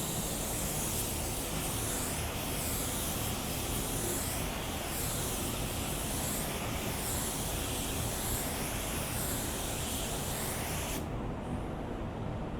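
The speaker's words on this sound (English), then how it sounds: "Now we're gonna do that same thing here with that vertical spraying" A paint spray gun at around 14 PSI hisses in a steady, continuous blast during a vertical pass, its airy rush rising and falling slightly as it sweeps, then cutting back near the end.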